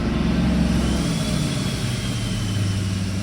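A vehicle engine with an exhaust brake engaged, loud and steady with a deep low rumble that drops in pitch after about a second, then settles into an even drone.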